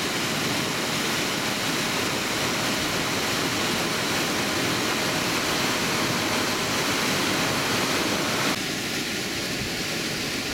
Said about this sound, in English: water emerging from the screw goes down this right bank and is relatively quiet